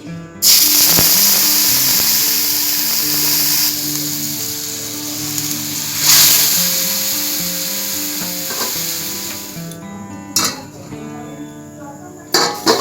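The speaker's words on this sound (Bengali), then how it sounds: "আমি একটু জল দিয়ে দিচ্ছি" Water splashed into a hot pan while cooking aloo kulcha bursts into a loud hiss at once, then settles into a steady sizzle close by before fading toward the end.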